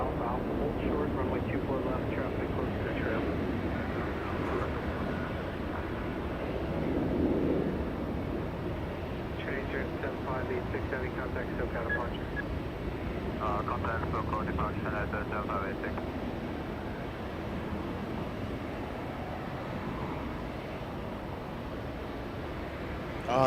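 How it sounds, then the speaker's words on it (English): China Eastern jet airliner taking off and lifting off at Los Angeles International Airport, a moderate, sustained engine rumble held at a distance beneath continuous commentary. "China Eastern taking off and lifting off"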